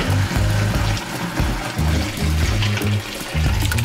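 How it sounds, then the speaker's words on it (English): Chicken broth made from water and chicken bones pours steadily and splashes through a strainer into a bowl, a continuous gurgling flow with uneven sloshing pulses. "I'm pouring the chicken broth in."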